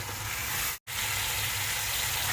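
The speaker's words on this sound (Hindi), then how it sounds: "और इसके साथ ही मैं शामिल कर दूँगा अदरक लहसुन का पेस्ट, और इसको मैं अभी खूब अच्छी तरह भूनूंगा जब तक ये ब्राउन हो जाएगा" Beef frying with ginger garlic paste in a pot for Bannu beef pulao, a loud, dense, steady sizzle broken by one brief silent gap near the start, no talking.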